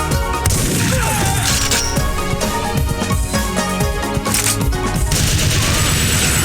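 Meaty gunfire from the video game Timesplitters comes as rapid, punchy bursts layered with crashes and impacts over a loud driving musical soundtrack, filling the whole span.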